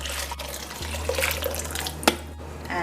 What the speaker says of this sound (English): now I'll add boiling water to the black eye